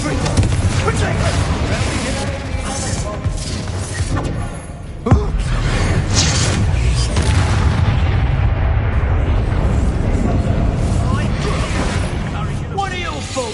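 Rapid blasts, booms and crackling bursts of explosive spells in Hogwarts Legacy gameplay form a dense, loud, continuous barrage, with a sharp impact midway and a voice talking over the action.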